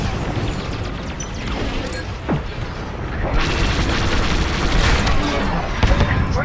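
Starfighter blaster fire on an Imperial shuttle in Star Wars: Squadrons, rumbling booms and crackling energy bursts over a constant engine roar, growing denser and louder toward the end.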